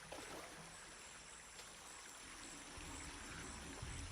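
Flowing water powering a bridge in Shadow of the Tomb Raider gives off a soft, steady rushing stream sound, faint and continuous with no talk.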